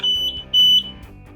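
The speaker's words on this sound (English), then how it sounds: "right now you can hear it's beeping here" A Rascal Conquest mobility scooter pushed into neutral gives a loud electronic beep in two long pulses with a brief gap between them.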